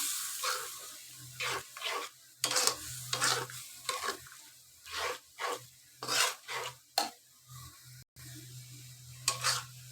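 Dried Bombay duck (loitta shutki) bhuna being stirred in a pan, with a series of scraping strokes in an irregular rhythm over a faint, steady sizzle.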